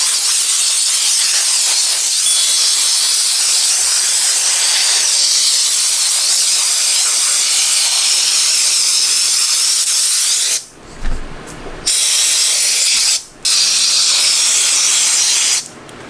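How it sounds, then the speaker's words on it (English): A compressed-air nozzle blows fiber residue off a hunting bow's body and limbs, producing a loud, steady close-up hiss that cuts out in two short breaks near the end, with no talking. "I'm just going to use some air from an air compressor."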